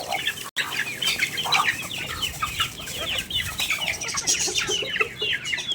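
A flock of hens clucks and chatters busily up close while eating vegetables and feed, with soft pecking, occasional wing flaps and continuous murmuring from many birds.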